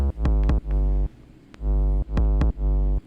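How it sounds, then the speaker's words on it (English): An unprocessed 808 bass drum sample hits repeatedly, each a deep booming kick with a sharp click at the attack and a long sustained low tail, loud and close, with no other sounds. "it's an 808."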